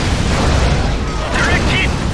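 Artillery shell explosion in Command & Conquer Generals (2003) as the China faction, a dull rumbling boom under a steady wash of battle noise, loud and continuous for a couple of seconds.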